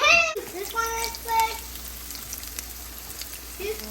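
Seasoned ground turkey begins frying in a pan with a steady, close sizzle and crackle, with brief tonal clinks near the start and a soft hiss continuing throughout.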